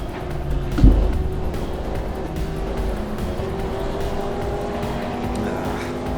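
Race cars lap Brands Hatch in a racing video game, a steady loud engine drone with a sharp bump early on, tire noise and other cars close by throughout, no voices.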